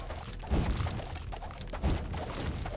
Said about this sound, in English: When that explosion goes off, it really goes off